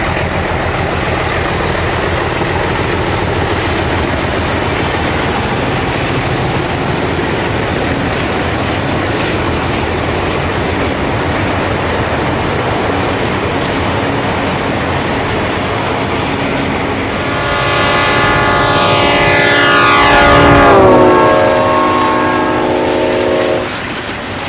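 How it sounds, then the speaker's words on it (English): An ABAA set of Santa Fe Alco PA diesel locomotives hauls the San Francisco Chief passenger train through Hanford, a loud continuous diesel roar and rolling rumble building as the train nears, then a long multi-tone air horn blast sounding close by. "An ABAA set of Alco PAs arrive and depart Hanford with San Francisco Chief Train Number"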